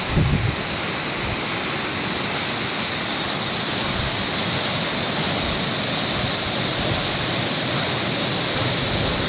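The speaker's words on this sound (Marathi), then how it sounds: "पाणी पड़ते तो पहा जबरदस्त" Water pours over the Phadke weir dam at Naneghat in a loud, constant roaring rush, a dense continuous wash of falling water heard close up and alone.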